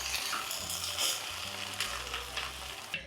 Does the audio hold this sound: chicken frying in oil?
yes